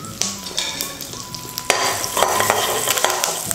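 Curry leaves, cashews and turmeric fry in hot oil, a steady close sizzle with a sharp crackling burst partway through as more goes into the pan.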